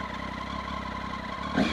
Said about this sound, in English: I love that whiny sound you get from the engine